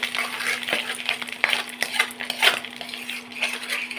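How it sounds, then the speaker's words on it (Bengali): A spoon stirs an aloe vera mixture in a pot just taken off an induction cooktop, giving repeated metallic clinks and scrapes at close range over a steady low hum. "এবার একটু নাড়তে থাকছি।"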